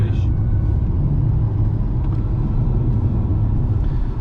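A Volkswagen Jetta 1.2 TSI BlueMotion rounds a bend at about 90 km/h, heard from inside as a loud, steady low road and engine rumble with constant tyre noise and no voices.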